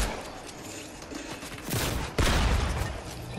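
Dense gunfire in a Fortnite match: rapid, loud, overlapping shots and bursts that swell midway and stay heavy to the end, with no talk over them.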